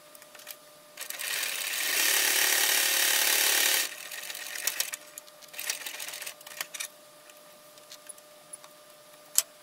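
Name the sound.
sewing machine top stitching webbing strap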